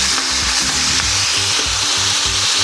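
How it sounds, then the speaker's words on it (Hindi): Onions, tomatoes, green chilli and ginger-garlic paste frying in a pan, a loud continuous sizzle broken by rhythmic scraping and stirring strokes, close and dense throughout. "और इनको अच्छी तरह भून लेंगे।"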